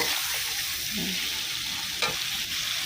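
Chili paste stir-fried in a hot pan with sugar, seasoning sauce, oyster sauce and seasoning powder, making a steady close sizzle with a light scrape of stirring.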